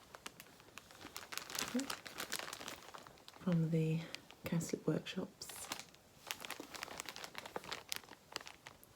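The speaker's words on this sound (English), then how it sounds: "please excuse the rustling because I don't want to take this out of the bag at the moment" A bag holding hand-dyed velvet rustles and crinkles in faint, intermittent bursts close to the microphone, heard between soft spoken words.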